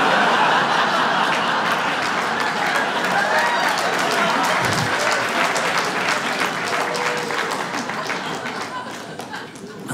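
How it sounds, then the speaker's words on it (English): Comedy show audience breaking into loud, sustained applause with scattered laughter and whoops, a dense wall of clapping that stays strong before tapering slightly toward the end. "he didn't clap long enough for me to take a drink"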